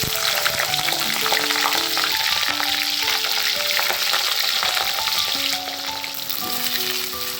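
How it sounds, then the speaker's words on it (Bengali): Cauliflower pieces frying in hot oil in a wok, a steady loud sizzle with some stirring and a few tonal clinks over it, no talking. "কড়াইয়ের তেল গরম হয়ে গেছে। এবার আমি প্রথমে ফুলকপিগুলো ছেড়ে দেব।"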